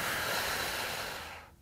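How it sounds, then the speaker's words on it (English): A deep, steady breath drawn in during a postnatal breathing exercise, a close, breathy rush of air that swells and then tapers off. "So we'll inhale."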